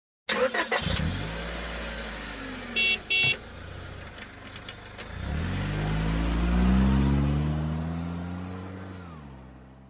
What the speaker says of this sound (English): So this is a vehicle.